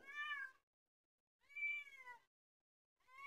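A small cat meows three times, clear and close, with short silent gaps between the calls and no other sound.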